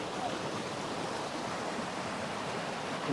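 Waterfall roaring as a constant broadband rush of falling water, steady and fairly close, with no distinct breaks.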